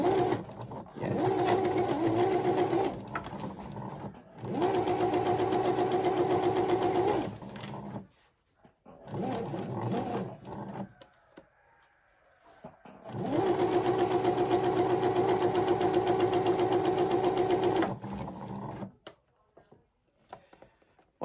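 A sewing machine stitches over thick fabric in steady whirring runs with a rhythmic needle clatter, stopping and restarting several times with short pauses between bursts.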